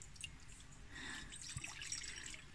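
Water drips and splashes in small irregular bursts while someone washes their face outdoors at a glamping campsite, close to the microphone over a low steady background hum.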